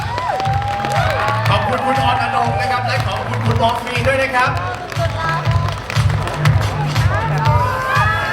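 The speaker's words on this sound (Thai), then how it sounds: "อีกสักครั้งครับ ขอเสียงปรบมือกับทั้งสามท่านด้วยนะครับ" Audience applause and cheering at a Miss Grand Krungthep Saraburi 2024 beauty pageant crowning, a loud, continuous crowd roar with clapping and shouts, and an announcer speaking over it with rhythmic music in the background.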